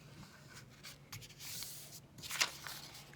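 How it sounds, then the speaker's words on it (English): Sheet of paper being folded in half along the diagonal for an origami penguin: soft close rustling and sliding, ending in a brief crisp crease-pressing scrape. "So I'm going to fold it across this way."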